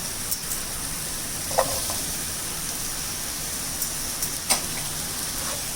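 Mushrooms and capsicum sauté in a pan with a steady, soft sizzle, broken by a few light clicks of a spatula against the pan.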